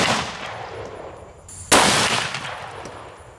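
A 45-70 round fired from a Magnum Research BFR revolver with a 10-inch barrel into pine boards gives one sharp, loud blast that rings out and decays over the following second, following a fainter burst of noise beforehand.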